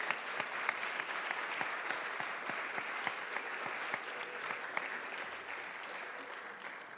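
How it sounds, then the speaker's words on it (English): Steady applause from an audience at a teacher appreciation awards ceremony, dense and sustained for the full stretch at moderate level without a break. "Round of applause"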